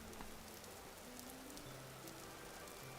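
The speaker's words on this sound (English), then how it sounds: "I think I hear rain." Steady rain falls in the survival video game Vintage Story, a constant soft hiss of drops on surfaces filling the whole stretch at an even level, with faint low tones drifting underneath and no talking.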